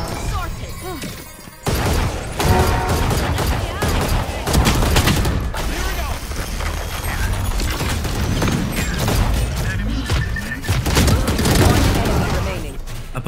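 Guardian rifle gunfire in the shooter game Valorant comes as rapid, loud bursts of shots mixed with clanking game effects and impacts, sounding dense and continuous after a short quieter opening.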